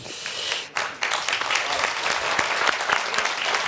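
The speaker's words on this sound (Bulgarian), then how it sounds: "Аплодисментите, разбира се, са и за цигуларя Стилиян Дерменджиев" Steady, dense applause from a concert audience after a performance with a violinist, loud and close, a continuous wash of clapping with no talk.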